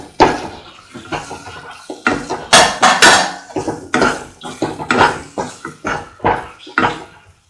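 A spoon stirring scrambled egg and ground cashew stew in a metal pot, rapid repeated scraping and clinking against the sides, loud and close with an irregular rhythm.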